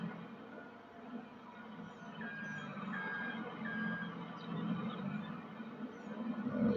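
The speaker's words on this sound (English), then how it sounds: "Get this truck pulled up" A farm truck reversing near a low loader gives out repeated high electronic backup beeps, fairly faint and evenly spaced, over a low engine rumble and outdoor ambience.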